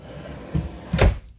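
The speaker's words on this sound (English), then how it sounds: "Do get nice storage underneath, pull out drawer." Pull-out drawer under the sink in a 2020 Bullet Premier 26RB travel trailer, sliding with a soft rattle and ending in a short thump as it shuts, close and brief.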